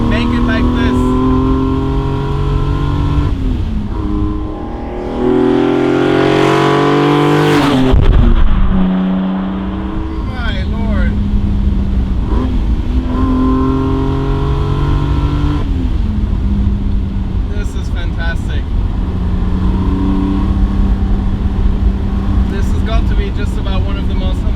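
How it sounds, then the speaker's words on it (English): A classic BMW's engine drones and rises through the gears, revving up and shifting steadily as it drives; a voice talks over it at times. "Just about one of the most evolving cars I have ever driven."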